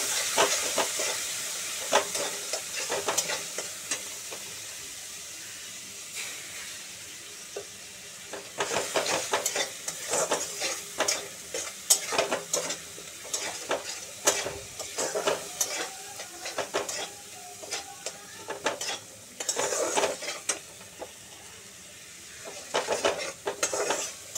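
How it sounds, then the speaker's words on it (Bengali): Loitta fish braising in a pan with chilli powder, spices and a splash of water, a soft hissing sizzle under frequent sharp scraping stirs that come in busy bursts, close and moderately loud. "একটু জল দিয়ে দিলাম কষানোর জন্য মাছটা।"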